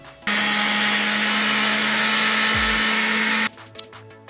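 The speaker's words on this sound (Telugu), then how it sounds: "ఇప్పుడు మీరే మిక్సీ వేసి చూపిస్తాను మీకు." A kitchen mixer grinder whirs loudly and steadily for about three seconds, grinding onion masala for a ladies finger pulusu, then cuts off abruptly.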